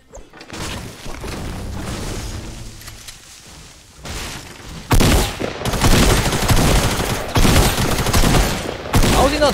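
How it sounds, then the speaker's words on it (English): Dense Fortnite firefight with loud, close automatic weapon bursts and heavy booming impacts, building from scattered shots into sustained rapid volleys toward the end. "Someone just shot me."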